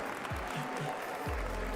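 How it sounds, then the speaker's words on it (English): Applause from a large crowd at the Pokémon World Championships VGC competition, a steady broadband clatter of clapping at moderate level across the whole short stretch, with no talk over it. "maybe a little noise from the crowd will help wake you up"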